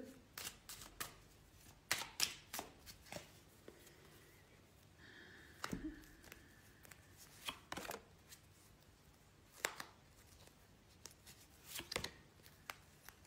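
Tarot cards being shuffled and drawn, heard as a string of quiet, crisp riffles and soft slaps coming in irregular bursts, close by with no talking.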